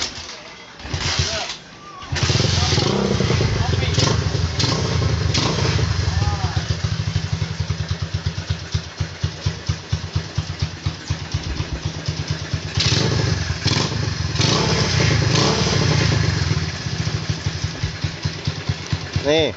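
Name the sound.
Honda Mega Pro 2003 motorcycle engine running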